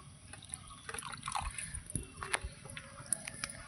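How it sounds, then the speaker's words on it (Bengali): Water is poured into a bowl of ground spices and green chili paste, giving a faint, close trickle with small splashy drips and gurgles in a quiet kitchen. "এর মধ্যে একটু জল দিয়ে দেবো।"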